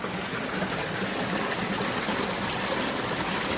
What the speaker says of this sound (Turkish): Şelale burasıymış. Çok da büyük değilmiş.